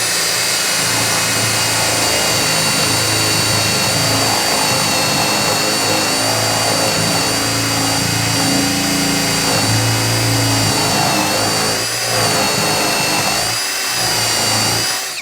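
A power drill bores at full speed through an OSB board, a loud, steady whining drone with a sustained high-pitched motor tone and a grinding bite that shifts slightly as the bit works through the wood, no talking.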